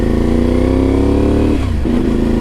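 A modified Ibex 450 motorcycle engine drones loudly up close at high revs, then dips briefly and surges back, a steady throbbing roar with no talking.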